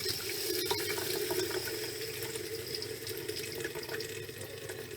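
Pressurized water rushes steadily from the hot water tank tap of a 2021 Bushwhacker Plus 15FK camper, hissing and splashing close up for several seconds without a break.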